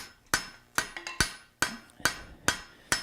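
A blacksmith hammers hot metal on an anvil, seven sharp, ringing metallic strikes in an uneven rhythm with a few lighter taps between, heard close with no talking.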